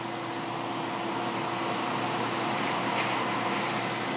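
Shop vac with an extension wand sucking sawdust off a workshop floor, a loud steady whooshing whine that runs unbroken and close, with no talk over it.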